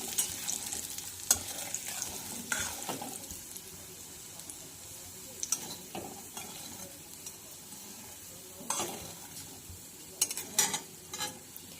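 A spoon scrapes and stirs semolina roasting in ghee in a wok over a low, steady sizzle, with sharper scraping clicks now and then and no talking.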